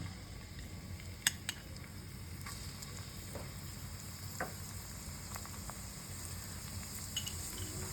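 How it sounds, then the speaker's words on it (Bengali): Garlic tempering sizzling in hot mustard oil, a continuous close frying hiss with a few sharp clinks of a utensil against the pan and no talking. "সর্ষের তেল রসুন ফোড়ন"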